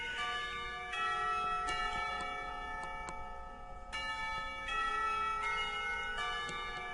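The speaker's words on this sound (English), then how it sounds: "The lunch bell sounds" A school lunch bell rings in the visual novel Katawa Shoujo, a series of clear, resonant chime strikes with long ringing tails, repeating in a steady pattern with a short pause midway.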